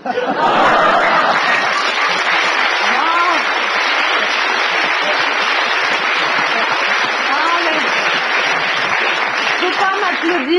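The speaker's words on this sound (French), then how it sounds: "Faut pas m'applaudir, j'ai aucun mérite à imiter si bien Carla Bruni" A theater audience bursts into dense, sustained applause mixed with laughter, loud and continuous throughout, after a comedy impression act.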